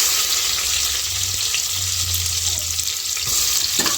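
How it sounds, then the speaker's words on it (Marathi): Onion frying in hot oil with bay leaf, black pepper and cloves for chicken biryani, a loud, continuous close sizzle with occasional stirring scrapes and no talk. "कांदा टाकलाय आहे कांदा जरा भाजून घ्यायचा"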